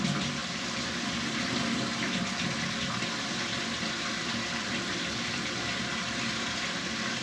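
Hot water gushing from a tap, a steady close rushing and splashing flow that continues unbroken and alone.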